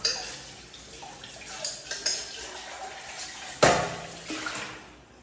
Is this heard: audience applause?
no